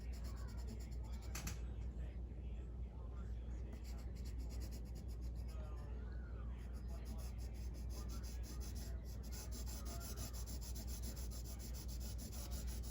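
A pencil held sideways shades a cast shadow on paper while drawing a cylinder, giving a steady, soft continuous rubbing scrape that runs close and quiet throughout over a low background hum.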